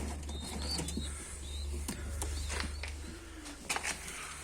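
Mardin tumbler pigeons kept in a loft give soft, low cooing calls with occasional brief wing flaps and light taps, faint and close against a steady low hum, with no one speaking.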